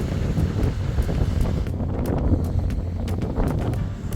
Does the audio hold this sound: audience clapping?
no